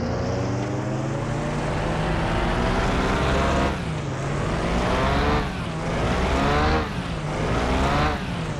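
Lamborghini engine revving lightly under small throttle blips while warming up, its note rising and falling in several sweeps, loud and close, with a steady rumbling idle between the pulls.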